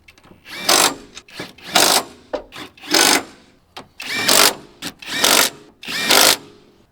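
A power tool drives 12mm bolts back onto a Honda Accord engine during a valve cover gasket job, in short loud whirring bursts of about half a second each, repeated roughly seven times with brief gaps, close by.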